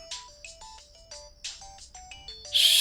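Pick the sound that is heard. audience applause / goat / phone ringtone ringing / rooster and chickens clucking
phone ringtone ringing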